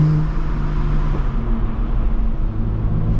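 A BMW M2 with an N55 turbo engine and a K&N intake drives past nearby walls, giving a loud, steady low engine drone with a brief higher whoosh at the start that fades into the rumble.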